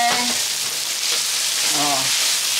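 Onions sautéing in a pan for fish sarciado (tilapia) give a steady, close sizzle throughout, with brief talk over it.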